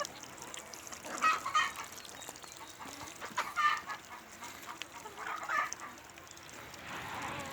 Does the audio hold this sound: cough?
no